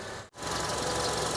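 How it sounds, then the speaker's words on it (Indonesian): The 2.4-litre engine of a 2010 Honda CR-V facelift idles steadily and smoothly, a close, even hum cut by a brief drop near the start. "Dan ini suara mesinnya"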